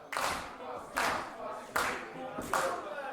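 An audience at a Father's Day party in Tsooru claps along to a rap performance, four rhythmic bursts of many hands clapping together at a moderate level, with a voice faintly over it.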